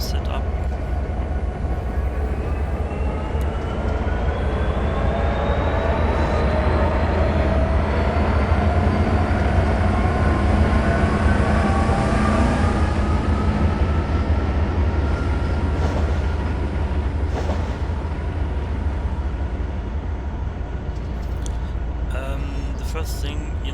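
A train rolls steadily in the Trainz railfanning simulator, a loud continuous rumble with rising and falling mechanical tones as it moves.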